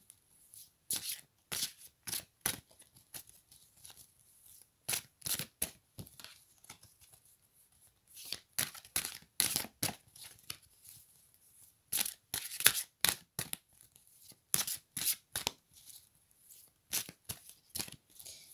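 A deck of tarot cards being shuffled and cut in quick irregular bursts of riffling and snapping, close and fairly quiet, with no voices.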